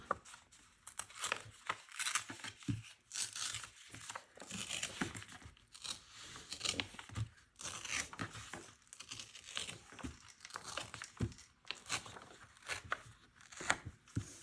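Soaked paper being torn by hand for scrapbooking, quiet close crinkly ripping in uneven bursts with brief pauses between, no voices.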